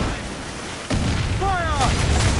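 Ship cannons fire during a naval battle in Assassin's Creed 4 Black Flag: a sharp boom lands midway and rolls into heavy rumble, with a shout and crew chatter over the din.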